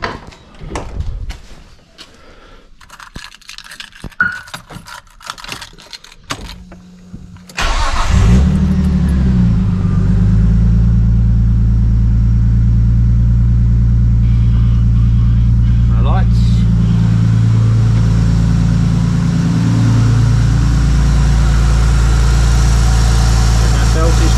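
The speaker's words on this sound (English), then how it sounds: "I'll start the car." A car with a Nissan RB engine, fitted with a converted GM 140A alternator, cranks over and catches, then settles into a loud, steady idle close by, with light clatter before the start.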